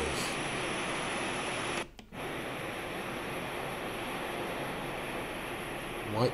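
Steady broadband rush of surf from a Sound Oasis S-6000 sleep sound machine's white surf setting, constant and full, with a brief dropout partway through before the wash resumes.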